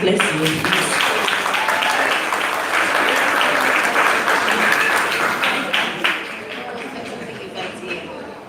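An audience at a pre-K school leaving exercise breaks into sustained applause, dense and steady, then tapering off toward the end, with some voices mixed in underneath.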